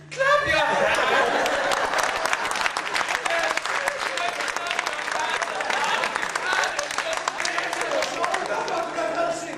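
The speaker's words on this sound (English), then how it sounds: "If you believe in vampires, clap your hands." Theatre audience at a college comedy play claps their hands together, a full burst of applause that starts abruptly and holds steady throughout, with some chatter mixed in.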